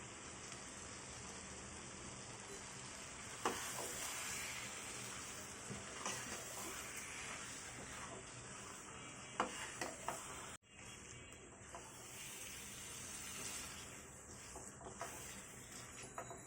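Marinated mutton fries in a pan of spiced masala while being stirred, giving a steady, soft sizzle with occasional scraping clatters from the utensil and a brief dropout partway through.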